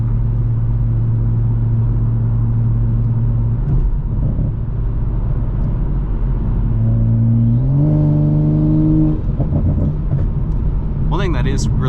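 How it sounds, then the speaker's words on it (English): A Toyota Supra drives at night with windows up, its engine droning steadily and then rising in pitch as the revs climb, with turbo whine building near the end; a person talks over the engine. "it is nice to actually just kind of like listen to the turbo spool and everything"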